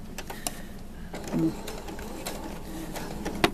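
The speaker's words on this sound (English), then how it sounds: "we're going to stitch really close to this top because we want that seam going in the up position" A sewing machine top stitches a ruffle on doll pants with a quiet, continuous whir running throughout, punctuated by a few faint clicks.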